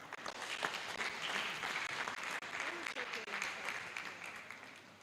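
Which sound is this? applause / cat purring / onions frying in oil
applause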